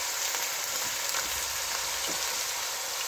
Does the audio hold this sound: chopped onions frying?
yes